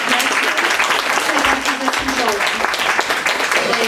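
An audience claps after a song at a women-themed cultural-centre evening in Radzyń, a dense close applause lasting a few seconds with a voice speaking over it.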